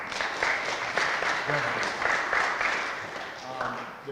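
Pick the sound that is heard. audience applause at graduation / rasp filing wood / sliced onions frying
audience applause at graduation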